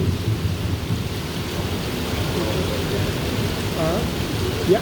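Steady, loud downpour of a thunderstorm with rain and hail, a dense broadband roar filling the whole stretch with low rumbling underneath, unbroken throughout with no speech.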